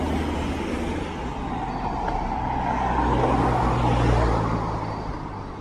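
A bus rumbles past on a road near a stop, its engine drone swelling louder midway and easing off again, with no talk over it.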